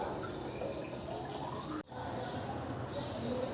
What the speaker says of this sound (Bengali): জলটা ভরে নিই